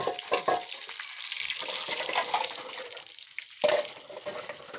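Food fries in a pan, a steady close sizzle with some stirring scrapes and watery hissing, moderately loud throughout with no talking.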